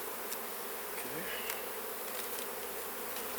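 Honeybees swarm and buzz steadily around an open hive box during a honey harvest, a dense, constant drone close by with no talking.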